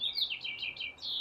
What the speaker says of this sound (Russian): Вот птицы запели, просто соловьи.